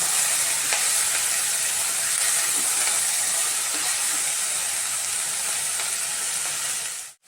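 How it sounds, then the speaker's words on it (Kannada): Baby corn kernels fry in a pan with a steady, close, bright sizzle and hiss that holds evenly before cutting off abruptly at the end. "ಇದು ಸ್ವಲ್ಪ ಫ್ರೈ ಆಗಲಿ."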